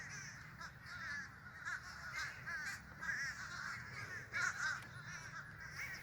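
A large flock of crows caws repeatedly outdoors, overlapping harsh calls at moderate distance forming a continuous noisy chorus throughout.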